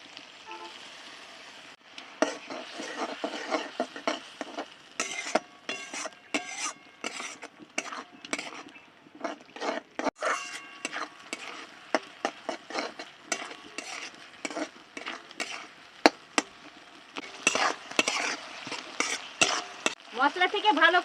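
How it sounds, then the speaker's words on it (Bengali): Spice paste being stirred and fried in a pan for a fish curry, rapid scraping and clinking of a spoon against metal over a soft sizzle, irregular strokes continuing throughout, close up. "শিল ধোয়া জলটা দিয়ে মশলাটা ভালো করে কষিয়ে নিচ্ছি।"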